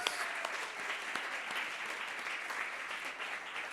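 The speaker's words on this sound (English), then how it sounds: "Please give Forward Carers a big round of applause." Audience applause at an awards ceremony, a steady sustained clapping from a seated crowd, moderately faint and continuous for the whole stretch with no voices over it.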